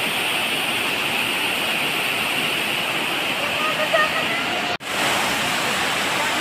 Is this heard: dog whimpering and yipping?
no